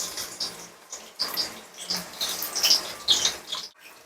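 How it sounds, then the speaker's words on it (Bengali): Chopped onions drop into hot oil in a pan for street-style egg chowmein, setting off a bright, crackling sizzle that comes in irregular spitting bursts, close and moderately loud. "তেলটাকে আমি খুব ভালো করে গরম করে নিয়েছি, এবারে আমি এতে দেব পেঁয়াজ কুচি"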